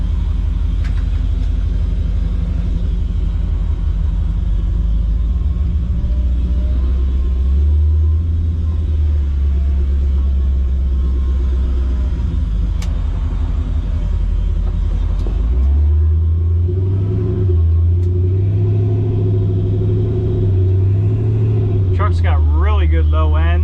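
Krypton Green Camaro with a Yank stall converter and 4L60 transmission, heard from inside on a drive: a loud, steady low engine rumble that rises and falls through the clip, with people talking over it.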